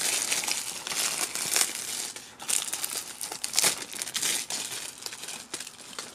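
Continuous crinkling and tearing of plastic wrap off a PS4 game box up close, loud and uneven with sharper rips scattered throughout and no voices.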